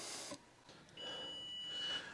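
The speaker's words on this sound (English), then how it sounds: "the buzzer just went off" An oven timer buzzer sounds in a kitchen while cast iron seasons with Crisco, a thin steady electronic tone lasting about a second, faint and alone.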